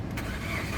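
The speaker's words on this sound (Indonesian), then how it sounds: "sekarang kita coba nyalakan mobil" A 2006 Suzuki Grand Vitara 2.0 automatic cranks and catches, its engine starting with a steady low rumble, close and fairly loud, no talk over it.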